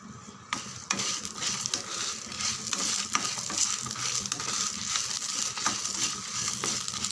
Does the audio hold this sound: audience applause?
no